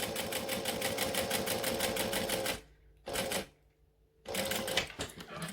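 A sewing machine runs steadily, stitching along the edge of a batwing-shaped wallet with a zipper, stops briefly, gives a short burst, then resumes rapid stitching.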